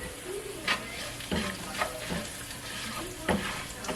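Garlic with black pepper sizzles steadily in a pan, broken by a few louder scraping stirs, with no voices over the frying.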